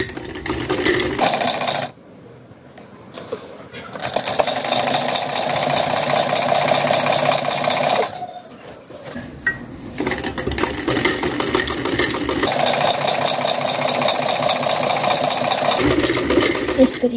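A sewing machine runs in steady stitching bursts while sewing straight lines across fabric for a round soft cushion made from waste cloth, with brief pauses between passes and a continuous mechanical chatter close by.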